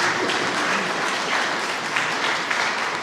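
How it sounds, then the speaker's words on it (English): Steady, dense applause from an audience gathered at a city community meeting with the mayor, sustained and fairly close with no break. "Round of applause to you guys."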